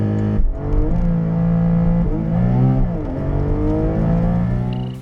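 A Porsche 718 Cayman GT4 engine roars hard from a standstill, climbing in pitch through several quick gear shifts, loud and close.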